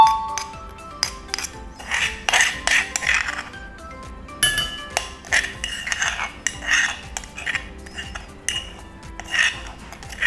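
Ingredients for a Thai spicy salad dressing, including vinegar and sugar, are mixed in a pot, with irregular metallic clinks and scrapes of a utensil against the pot, close and clear with no speech.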